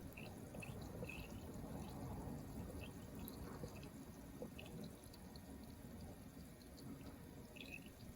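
Brown rice makgeolli, a Korean rice wine homebrew made with nuruk, fizzes while fermenting in a cabinet on day three, giving a faint, continuous crackle and hiss with scattered tiny pops and drips heard close up.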